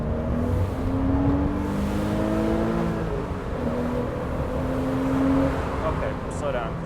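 Porsche Boxster S 550 Spyder with a six-speed manual pulling up a highway on-ramp, a steady engine drone rising in pitch through the gear, heard from inside the car with a voice talking over it.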